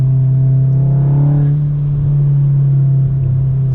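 A Stage 1 VW MK7 Golf R with a manual gearbox pulls hard under acceleration, its engine a loud, steady close-up drone that rises in pitch before settling, with no talking.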